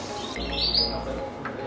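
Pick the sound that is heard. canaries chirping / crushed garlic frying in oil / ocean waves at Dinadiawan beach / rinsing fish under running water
canaries chirping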